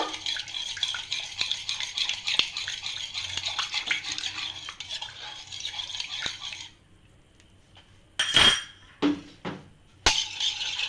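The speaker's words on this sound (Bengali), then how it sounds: "তো দুধ আর তেলটাকে আমি ভালোভাবে মিক্স করে নেব" Milk and oil whisked together in a bowl for a semolina basbousa batter, rapid close scraping and clinking for several seconds, then quiet followed by a few sharp utensil knocks.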